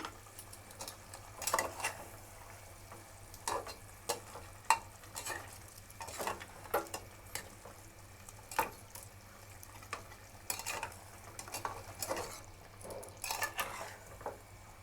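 Fried potato and papaya pieces being stirred into a Bengali-style mutton curry, a steady scraping and clatter of a spoon in a pot over a soft sizzle, with sharper irregular knocks throughout.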